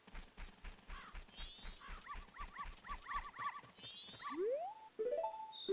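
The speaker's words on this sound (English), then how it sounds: "we're gonna get in some Twilight dog racing here at the doggy racetrack" Dogs bark and yip at a doggy racetrack in Zelda: Majora's Mask, a rapid run of game-sound barks followed by rising and falling whistle-like tones, with no talk over it.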